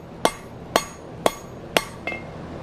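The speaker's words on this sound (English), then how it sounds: "we're going to hammer some kind of half on, half off blows" A blacksmith's hammer strikes a horseshoe held in tongs, five sharp ringing blows at an even half-second beat, the last one lighter, with no talking.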